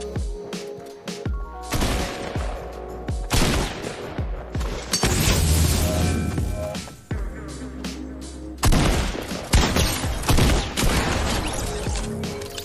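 Fake gunfire from a decoy grenade in Fortnite crackles in dense bursts of rapid shots, loud and close, with heavier booms mixed in and brief gaps between volleys.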